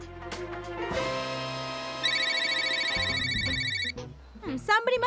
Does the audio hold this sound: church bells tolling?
no